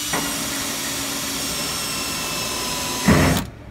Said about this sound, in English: We grab our 29 drill bit hole saw,